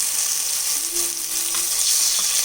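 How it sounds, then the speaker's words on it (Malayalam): Brinjal slices shallow-fry in about two spoons of hot oil in a pan, giving a steady, close sizzle with a fine crackle that continues throughout. "അതിലേക്ക് നമുക്ക് വഴുതനങ്ങ കഷ്ണങ്ങൾ ഓരോന്നായിട്ട് ഇട്ട് കൊടുക്കാം."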